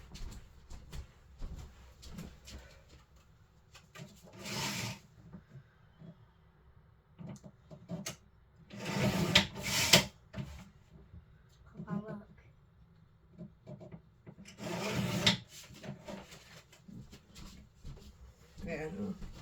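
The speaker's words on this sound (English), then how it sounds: "I'm just going to give it a quick trim" Cardstock being trimmed for a handmade card with a paper trimmer, giving several separate scraping slides and clicks spaced a few seconds apart, close by, with quiet handling noise in between.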